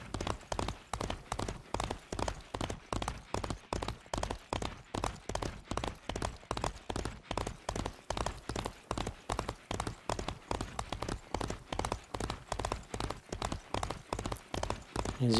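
Horse galloping across the Agrabah desert in Disney Infinity 3.0, hooves pounding in a fast, steady rhythm of loud, close clip-clops that continue throughout.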